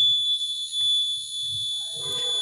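A homemade BC547 door security alarm circuit sounds its buzzer, a steady, piercing high tone that runs through the whole stretch over faint handling noise.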